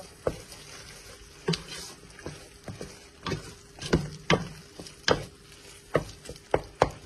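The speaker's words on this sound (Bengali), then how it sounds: "মশলা কষি যাক" Masala spices for chicken bhuna fry in a pan under a soft sizzle, broken by irregular close scrapes and knocks of a stirring utensil against the pan.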